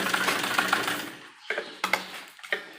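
A sewing machine stitches the waistband of an umbrella palazzo, running in one steady rapid stretch at first, then stopping and starting in three short, sharp bursts of stitching.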